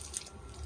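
Water splashes and runs steadily as it is poured onto chilli plants in a home vegetable garden, a soft close hiss with faint dripping, brief and fairly quiet.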